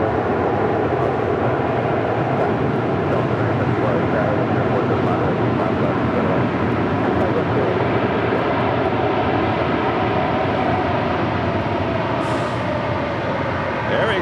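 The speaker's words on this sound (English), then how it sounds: "The Polar Air Cargo 747-8 coming in from Anchorage, touching down on 25 left." A Polar Air Cargo Boeing 747-8 landing on runway 25 left at LAX, its jet engines a steady, loud broadband roar that holds throughout without a break.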